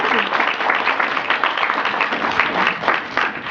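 A university audience applauds the student regent designate of the University of California at a public meeting, steady close clapping from many hands that fills the whole clip.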